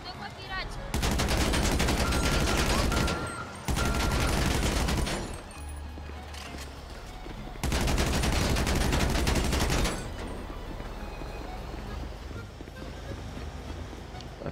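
Gunfire in a GTA RP game comes as long, loud bursts of rapid automatic shots, split by short pauses and followed by quieter stretches of background game noise.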